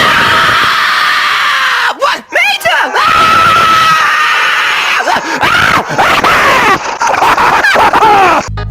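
Loud, sustained human screaming from a Cars creepypasta scene of Mater getting crushed, shrill and continuous across the whole stretch with a few brief breaks.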